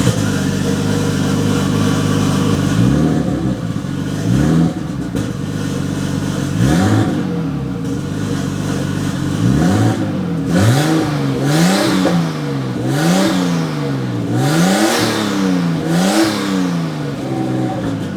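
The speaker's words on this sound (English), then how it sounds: "it definitely didn't rev up like that with the blown turbo" A car engine fitted with a replacement turbo revs repeatedly, rising and falling in a series of quick throttle blips over a loud, steady idle, close to the microphone with no talking.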